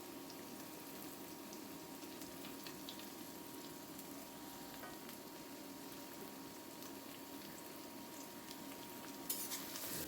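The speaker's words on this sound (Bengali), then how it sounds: "এদিকে গরম তেলের মধ্যে জিরা ফোড়ন দিয়ে আমি পেঁয়াজ, কাঁচামরিচ, রসুন" Onion, green chili and sliced garlic sizzle with cumin seeds in hot oil, producing a steady, close frying hiss that runs through the whole stretch with no talking.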